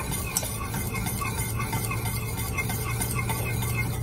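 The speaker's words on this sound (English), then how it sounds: "I'm just going to continue again, whisk it again" Cooked chocolate frosting is whisked in a pot, producing a steady, soft, fast scraping and swishing close by, with no talking.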